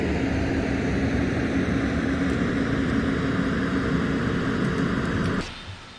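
Propeller engine of a North American P-51 Mustang in Flight Simulator X, a loud, steady droning roar held evenly before dropping away sharply near the end.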